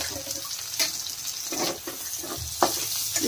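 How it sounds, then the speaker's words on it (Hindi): Onions and green chillies fry over high heat in a pan, giving a steady close sizzle with brief stirring scrapes and crackles throughout. "हम प्याज को तेजी आंच में भून लेंगे।"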